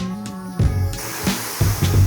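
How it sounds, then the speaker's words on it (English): Short bursts of a pressurized water spray hiss on and off against a car in a quick irregular rhythm, close and fairly loud, with thumping low sounds. "Let me wash your car while I'm here."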